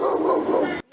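A dog barks and yips at an animal shelter, a single close, loud burst lasting under a second before cutting off.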